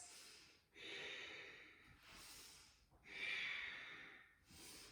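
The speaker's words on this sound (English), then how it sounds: "deep ujjayi breaths" Deep ujjayi breathing during yoga: slow, audible breath cycles with a hissing, throaty rush, about four long inhales and exhales, close and soft, with no talk.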